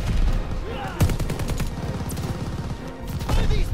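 Battlefield gunfire in the Call of Duty: Vanguard campaign, with rapid machine-gun bursts and sharp single shots clustered close and loud, plus heavier cracks near the start and end, mixed with voices shouting amid the fight.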